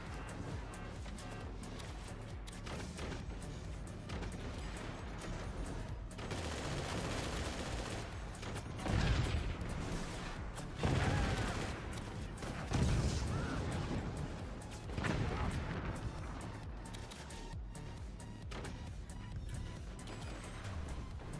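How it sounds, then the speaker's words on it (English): Mortar fire in the Forts strategy game, repeated booming shots and impacts scattered across a busy battle soundscape, with several louder blasts standing out amid continuous clatter. "Oh, but our mortars are landing hits."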